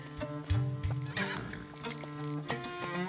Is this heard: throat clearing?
no